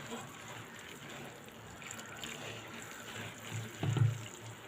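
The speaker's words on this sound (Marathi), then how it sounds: "आता आपण हे पाण्याने धुवून घेणार आहोत म्हणजे ते जरा नरम पडतील" Puffed rice being rinsed with water in a bowl, a soft continuous watery swish and trickle up close, rising into a brief louder slosh near the end.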